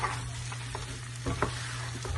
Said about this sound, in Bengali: দইটা দিয়ে আরো 5-6 মিনিট একটু হাই হিটে ভাজতে হবে।